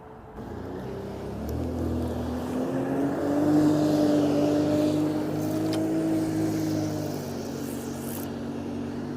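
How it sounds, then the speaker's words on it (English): A jet ski running on the River Tyne near Derwenthaugh Marina, a motor hum that rises and swells as it passes at moderate distance, then eases off, with no talking. "It's the first jet ski out."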